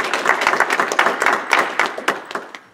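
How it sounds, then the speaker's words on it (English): A church congregation gives a hand clap of praise during a sermon, a loud burst of crisp, closely spaced claps from a room full of people that thins out and fades over about three seconds. "Give the Lord a hand clap of praise."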